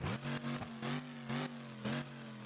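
The Bro Dozer monster truck engine in BeamNG Drive revs in five evenly spaced droning pulses. The sound is steady and mid-loud, with no talking over it.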